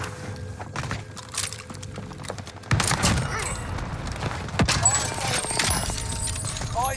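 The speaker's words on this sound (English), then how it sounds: "Someone's just shooting behind us." Gunfire from behind the player in Call of Duty Vanguard Warzone: a quieter stretch gives way to a loud, sustained burst of shots and clattering impacts, with bursts continuing to the end.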